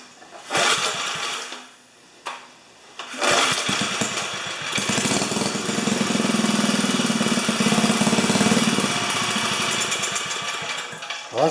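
A 4HP horizontal Briggs engine starts after a couple of short bursts and then runs steadily and loudly with a rough, chugging drone, close by, with no talking.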